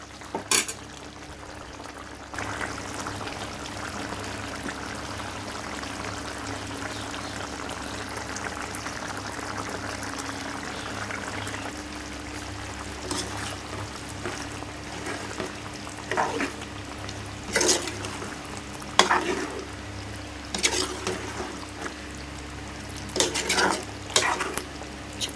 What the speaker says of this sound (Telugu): ఇంకొక 10 నిమిషాలు ఉడికించుకుందాం.